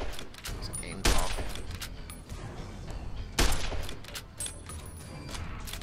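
Varmint rifle fire in Fallout: New Vegas, during a fight with Powder Gangers: two sharp, loud shots about two seconds apart, set against a busy bed of game mechanisms and clattering.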